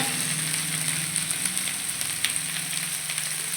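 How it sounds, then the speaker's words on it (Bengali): Soybeans and potatoes fry in hot spiced oil with turmeric and salt, giving a steady, close, loud sizzle with faint stirring underneath and no talk. "সোয়াবিন আর আলুটাকে দিয়েও আমি ভালো করে কষিয়ে নেব"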